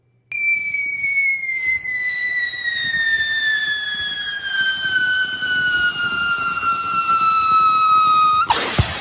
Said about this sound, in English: Next year we need fireworks like this.